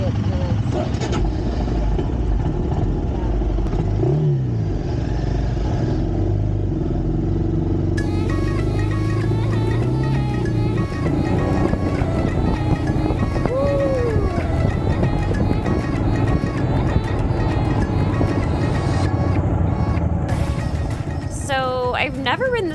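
An off-road motorbike being ridden in Morocco, its engine running loud and close throughout with revving swells, while people talk and other sounds mix in.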